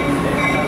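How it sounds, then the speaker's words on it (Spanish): A tourist train pulling into Aguas Calientes station near Machu Picchu, a loud, close rumble of wheels and carriages with a bright whining tone, continuous through the brief moment. "En este momento ya está llegando uno de los trenes."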